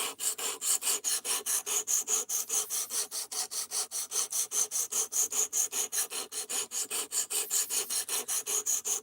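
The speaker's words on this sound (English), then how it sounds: "Getting real burned out on spending my whole night sharpening" A knife blade is drawn back and forth across a sharpening stone in quick, regular rasping strokes, about five per second, close and clear with no voices.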